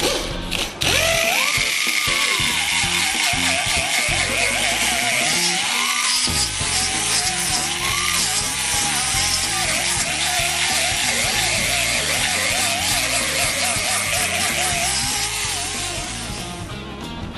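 A Roll-Off abrasive tool spinning against a car body panel, stripping paint and stone-chip underbody coating with a loud, continuous high-pitched grinding whir that wavers in pitch as pressure changes, then tapers off at the end.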